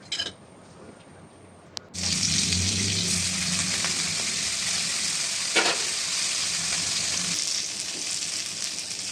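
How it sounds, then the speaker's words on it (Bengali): Hilsa fish heads coated in turmeric and salt hit hot mustard oil with a sudden loud sizzle that settles into a steady, crackling fry, with a brief utensil clatter partway through. "সর্ষের তেলে আমি ভেজে নেব।"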